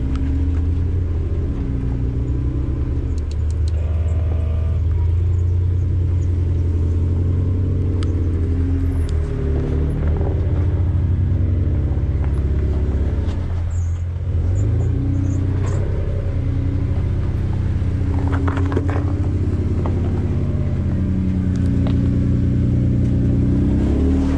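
A car drives along a sandy desert trail near Dominguez Falls in Sand Hollow, with a continuous, loud, low engine rumble and road noise throughout and small shifts in throttle.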